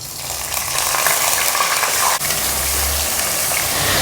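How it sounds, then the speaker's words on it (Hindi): Raw goat liver dropped into hot oil already frying garam masala for an Eid kaleji masala, giving a steady, loud, dense sizzle throughout with one brief dip partway. "अब मैं इसमें कलेजी डाल दूंगी।"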